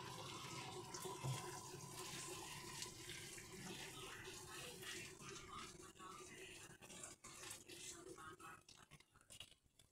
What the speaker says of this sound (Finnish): Nyt kaadetaan tätä kiehuvaa vettä tänne.